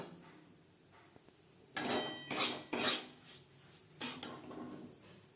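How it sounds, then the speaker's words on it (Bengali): Semolina roasting in a pan over a medium flame, heard as a few sharp metallic scrapes and clinks of a utensil against the pan, spaced out over a quiet background. "চার 5 মিনিট মিডিয়াম ফ্লেমে সুজি ভেজে নেব।"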